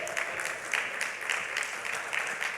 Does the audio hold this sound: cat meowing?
no